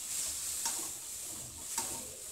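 Onion with ginger garlic paste is stirred over high heat in a pan for a vegetable biryani. There is a quiet, steady sizzle with a few sharp scraping strokes of the spoon.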